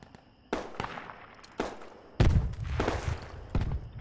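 Marksman rifle gunfire in a tactical infantry video game: several sharp cracks, a few of them louder and nearer, separated by short gaps over a faint background, with no talking.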